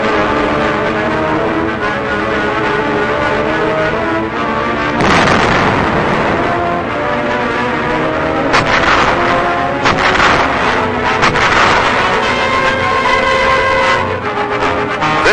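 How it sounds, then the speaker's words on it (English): Explosions and small arms fire on Okinawa in 1945 as troops clear caves, a continuous loud rumbling roar with heavy booms and bursts of crackling shots, harsh and band-limited like old archival film sound. "These are reduced individually by explosives and small arms fire."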